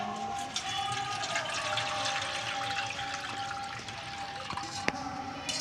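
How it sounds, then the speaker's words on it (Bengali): Continuous soft pouring and trickling of a blended sherbet drink being strained, a steady watery flow with a few small clicks and a brief knock near the end. "আমি শরবতটা ভালো করে গুলিয়ে নিয়েছি। এবারে ছেঁকে নেব।"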